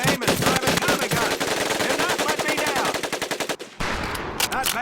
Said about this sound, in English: Looks like you've developed an affinity for automatic weapons, Private. Your new name is Private Tommy Gun.